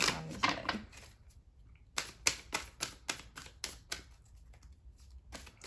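Tarot cards are shuffled by hand nearby, giving an opening burst of rapid flicking followed by a run of crisp, evenly spaced snaps and slaps.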